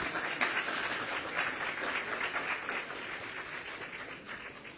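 A modest audience at an interview gathering claps in congratulation, a thin, steady patter of scattered hands that stays fairly soft and even throughout.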